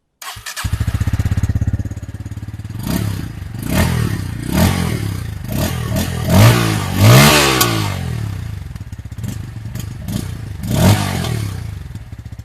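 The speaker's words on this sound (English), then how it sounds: "let's fire up the motorcycle and let me show you what it sounds like" Bajaj Pulsar P150 150 cc motorcycle starting up and idling, then revved in a series of sharp throttle blips, exhaust note swelling and dropping back between each, close and clear with no talk.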